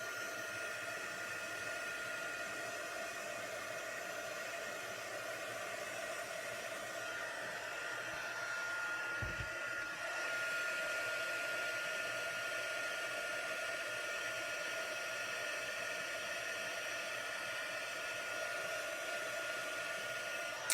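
A heat tool blows steadily for about twenty seconds, drying white embossing paste and kept moving to avoid scorching; a continuous airy whoosh stays close and even, with a brief low thump partway through.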